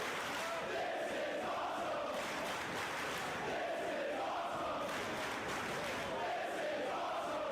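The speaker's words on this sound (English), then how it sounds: "Now the crowd, you can tell, on the side of Kobashi." A large wrestling arena crowd roars continuously for a Samoa Joe versus Kenta Kobashi match, a dense wash of cheering that swells and dips in waves, loud and sustained throughout.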